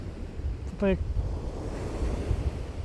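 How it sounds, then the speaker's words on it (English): Strong, cold crosswind buffets the microphone at night on the Holderness coast near Easington, a steady low roar with surf beneath and a brief faint tonal squeak. "the only thing that's spoiling this is this wind. Proper strong crosswind now, from right to left."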